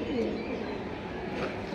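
Quality pigeons in a loft give a soft, low coo, faint and brief beneath a quiet background murmur.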